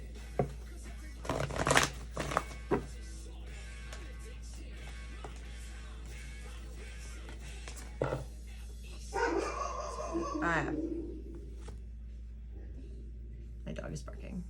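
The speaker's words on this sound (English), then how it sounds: "My dog is barking because someone's walking across the street." A house dog barks in short bursts indoors while someone passes across the street, the yaps fairly faint and mixed with card-shuffling sounds and a person talking quietly.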